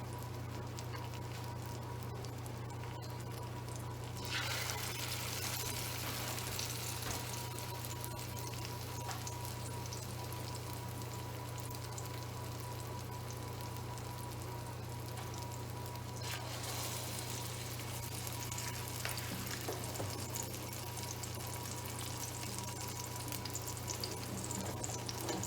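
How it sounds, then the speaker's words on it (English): An eggplant omelette (tortang talong) fries in a pan over medium-high heat, giving a steady, quiet crackling sizzle with a low hum beneath and a brief louder swell partway through; no one speaks. "And then transfer it to the pan and just let it fry."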